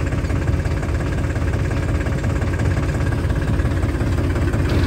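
A tractor engine runs steadily at high revs while spraying a soybean field, a loud continuous throbbing drone with no pauses.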